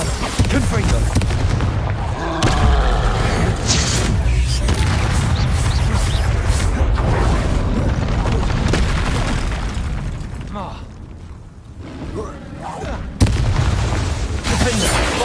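Confringo spell blasts in a video game boom repeatedly with loud, heavy bursts one after another, mixed with game effects and a voice talking over them.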